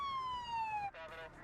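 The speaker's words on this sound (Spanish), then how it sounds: "Una ambulancia llega en minutos, pero era muy tarde." An ambulance siren wails with a steady falling tone, then breaks into short rapid yelp bursts, fairly clear and close over a faint background.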